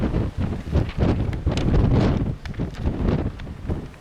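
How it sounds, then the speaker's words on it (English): Strong gusts of wind buffet an outdoor microphone, a loud, continuous roaring rumble that swells and dips without pause. "It's very windy out here."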